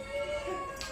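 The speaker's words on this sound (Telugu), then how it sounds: "క్యాట్ వచ్చే" A short, faint cat meow in a home, a single thin tonal call lasting under a second over quiet room noise.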